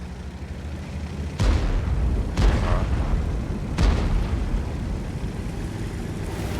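Three heavy cannon booms from a US T110E5 heavy tank in a video game go off a second or so apart over a constant engine-like rumble, with a brief spoken word near the start.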